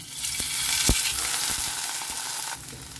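Paneer, about 200 grams, fries in hot oil in a pan, giving a steady, fairly loud sizzling hiss throughout with a few sharp pops and crackles.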